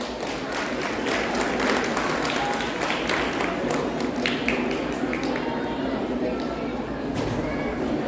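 Audience at a school annual day gives a dense burst of clapping to welcome children onto the stage, steady and moderately loud throughout with crowd murmur mixed in.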